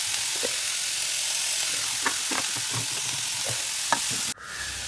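Chopped onion sautés in coconut oil in a pan, a constant close sizzle with scattered scraping taps of stirring, then the sizzle cuts off sharply near the end; no voices.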